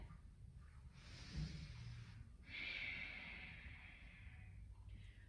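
Slow, audible breaths in and out during a power yoga stretch, two soft drawn-out airy exhalations over a quiet background with no talking.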